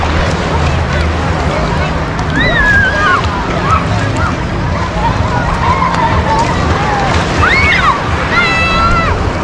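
Black Sea water sloshes and laps steadily close by at a beach in Lazarevskoye, Sochi, under gusty wind rumble, with a few faint bird chirps rising above the wash.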